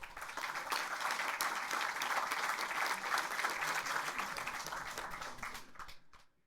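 Sustained audience applause at a Korean political party gathering, steady and dense for about six seconds before fading out abruptly at the end.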